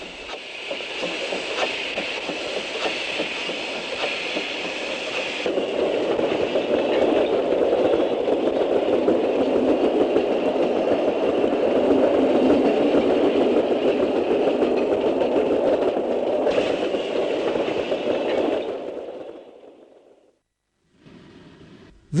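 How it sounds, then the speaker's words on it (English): A narrow gauge train hauled by a Garratt steam locomotive rumbles steadily and loudly for nearly twenty seconds, a continuous mechanical drone that fades briefly near the end. "these little trains were once hauled by Garrett steam locomotives"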